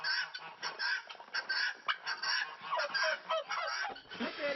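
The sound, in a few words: guinea hens calling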